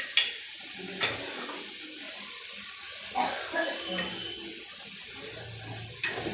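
Mutton pieces go into a hot frying pan one after another, each drop giving a sharp hiss that settles into steady sizzling, with light clatter from the pan between additions.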